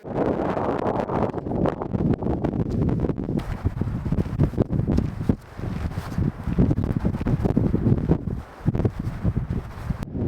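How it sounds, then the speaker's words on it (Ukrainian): Strong wind roars and buffets the microphone steadily throughout, with rustling gusts and a couple of brief lulls, high on the Everest trek near the Gokyo Lakes at about 5,300 meters. "Вітер сильний доволі піднімається тут."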